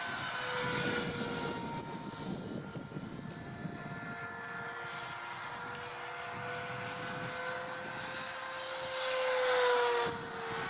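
An E-flite F-15 RC jet flies outdoors into the wind with a continuous whining engine drone whose pitch slowly shifts, heard at a distance and swelling louder near the end.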